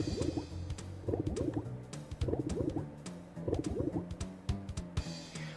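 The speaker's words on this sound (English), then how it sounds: "Keep moving it until you hear the bucket filling up." Water sloshes and drips into a bucket in the Breath of Fire 3 video game, with bursts of gurgling liquid sounds repeating in a steady rhythm about once a second alongside faint chirpy game tones.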